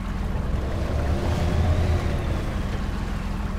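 Steady rushing water and a low engine rumble of a truck ploughing through deep water in the video game Spintires: MudRunner, loud and continuous with no voices.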